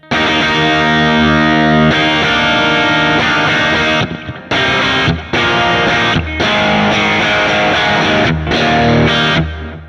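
An electric guitar played through a Vox-style tube amp, bright and chimey with some grit, full strummed chords with brief pauses between phrases, loud and close.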